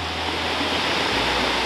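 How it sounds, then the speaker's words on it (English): Steady, dense rushing of water from a waterfall at Piney Falls, a continuous close wash of noise with no breaks and no voices. "So what is it about waterfalls that you love so much?"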